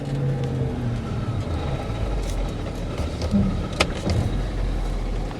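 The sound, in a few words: 2013 Ford F550 rollback truck engine running in 4 low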